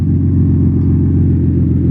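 Up close, the single-turbo VQ-swapped Miata holds a rough, steady idle, its deep engine rumble loud and unchanging from start to finish.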